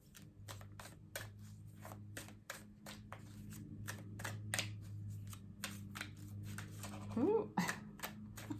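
Tarot cards being shuffled during a zodiac tarot reading, a steady run of crisp, evenly spaced riffling flicks close to the microphone, with a brief louder flurry near the end.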